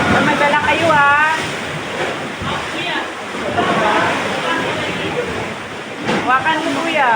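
Loud sea waves roaring and sloshing inside a beach cave on Boracay island, a continuous rushing wash that swells and eases, with people talking over it throughout.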